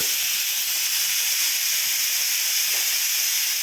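A pressure cooker with dal inside lets out a continuous loud steam whistle, a bright hissing tone that holds steady the whole time, with no voices over it.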